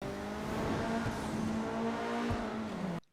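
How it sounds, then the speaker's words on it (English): Sports car engine in GTA 5 droning at a high, steady pitch with rising and falling revs and a faint tire squeal, cutting off abruptly at the end. "the exhaust note's alright. I mean, it's nothing too special, but it still sounds pretty good. Have a listen."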